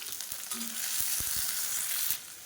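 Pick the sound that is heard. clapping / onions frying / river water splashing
onions frying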